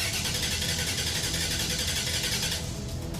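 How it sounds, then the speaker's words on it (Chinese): A restored 1936 Hudson truck engine cranks on its first ignition attempt, a loud, steady, rhythmically pulsing mechanical churn that drops off near the end. "这时员工们准备第一次的打火尝试"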